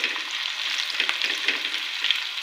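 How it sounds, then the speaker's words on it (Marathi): Onion frying in a pan, giving a bright continuous sizzle with soft crackling bursts and a few stirring scrapes. "आता आपण कांदा टाकू त्याच्यात. कांदा थोडा फ्राय करून घेऊ."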